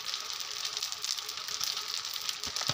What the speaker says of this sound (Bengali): চাল দিয়ে এখন অনেকক্ষণ ভাজবো